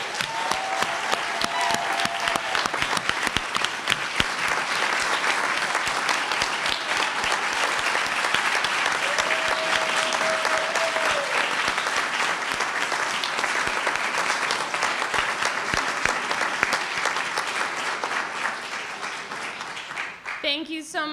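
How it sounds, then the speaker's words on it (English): A long, even round of applause from a school board meeting audience honoring senior All-Stars, their families and teachers, continuous clapping throughout with a few brief voices and tones in the background. "And a big round of applause."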